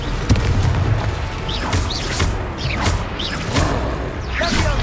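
Confringo blasting spell explosions in the Hogwarts Legacy video game, loud repeated booms and whooshing magical bursts in quick succession over dense battle noise.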